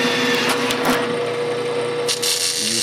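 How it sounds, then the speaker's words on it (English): A grinder works steadily on a workpiece during a 386 DX 40 computer rebuild, giving a continuous abrasive rasping hum with a few brief sharper bursts, close and fairly loud throughout. "Using a different type of grinder."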